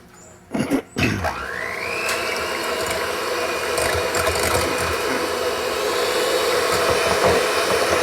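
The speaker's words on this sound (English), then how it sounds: "So we'll just use the electric beaters." Electric beaters whir steadily while mixing sugar into chocolate pudding batter, starting after a couple of clatters and then running as a continuous buzzing drone for several seconds, close and without speech.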